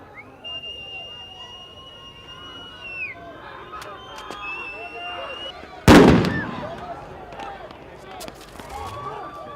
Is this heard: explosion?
yes